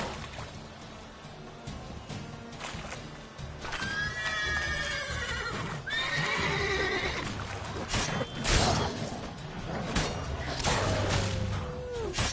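Roach the horse in The Witcher 3 whinnies repeatedly with high, wavering neighs over a rumbling background of hooves and ambient game sound, close and clear.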